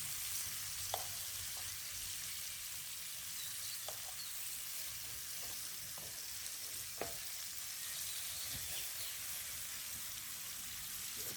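Wild boar meat frying in a pan with tomato, garlic and mushrooms, giving a steady close sizzle with scattered pops and crackles throughout, no talking.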